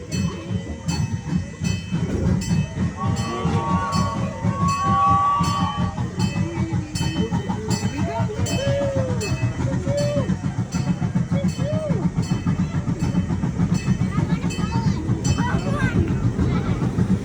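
A small zoo train rumbles along its tracks with a rhythmic clickety-clack and occasional squealing tones, while voices murmur in the background.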